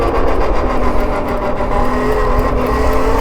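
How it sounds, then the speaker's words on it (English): A truck passes close to an e-bike rider, its loud, steady engine roar and road rumble filling the whole stretch without pause and with no talk. "There's a truck."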